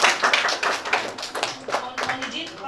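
A group claps in applause at an organizational orientation gathering in Malang, East Java, a brisk scatter of hand claps mixed with voices talking over it.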